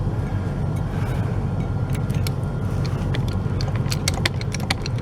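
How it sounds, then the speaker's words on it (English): A parked truck idles nearby with a continuous low rumble, while sharp metallic clicks and ratcheting from a jack lifting a post rise over it toward the end. "That rumbling sound is my truck."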